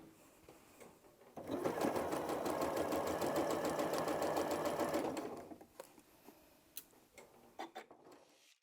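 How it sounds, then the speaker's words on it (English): A sewing machine stitches fabric for a make-up cosmetic bag with ruffles and a zip, running in one steady rapid burst of about four seconds before stopping, followed by quiet handling noises. "We're going to take that to the machine and sew along there."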